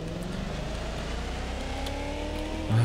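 Car engine in the video game Watch Dogs Legion drones steadily at low pitch for about three seconds, holding a constant level with a slight swell of revving at the very end, with no talk over it.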